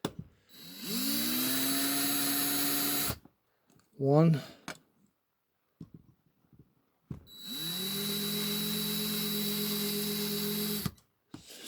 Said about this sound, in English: Very slowly drill out these rivets.